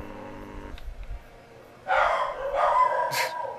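Corgis bark in a video game set in a cargo area, two or three short bursts of barking in quick succession at moderate loudness after a stretch of quiet background.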